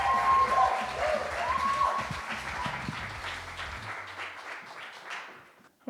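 A live podcast audience applauds at an event, a dense wash of clapping from a crowd that swells and then gradually fades out, with some voices mixed in.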